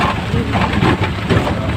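Steady rain pouring in Palawan, a loud, dense, continuous hiss of falling water filling the short stretch without pause.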